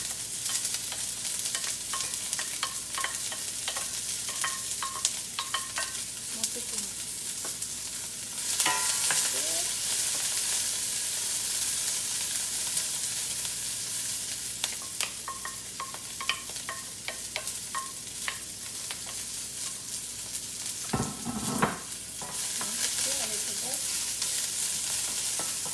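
Garlic sizzles steadily in a hot pan while being stirred, with occasional scraping and clinking of the utensil over a constant close frying hiss.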